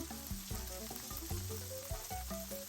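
Chicken pieces sauté in melted butter in a skillet, a single serving for fettuccine Alfredo, giving a continuous soft sizzle that sits low beneath background music.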